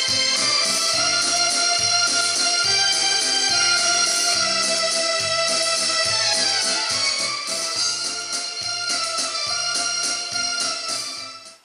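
A song plays from a disc on an Auna Elegance hi-fi system, a full, steady mix of music heard alone without speech, fading out at the very end.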